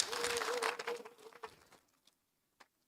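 An audience at the closing session of the third FAWE Triennial International Conference on Girls' Education applauds, a brief burst of clapping that fades out after about a second and a half, with a faint tone beneath it at first.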